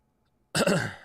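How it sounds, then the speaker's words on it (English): A single harsh, close cough erupts abruptly after a half second of silence, then fades into a raspy throat clear. "I keep on coughing up stuff"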